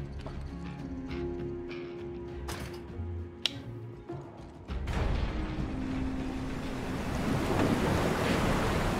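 Rushing water in the Final Fantasy 7 Remake video game surges in as a loud, steady broadband roar halfway through, following quieter game sounds and clopping effects.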